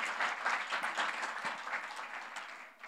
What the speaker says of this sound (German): ein Applaus dem Herrn für dein Leben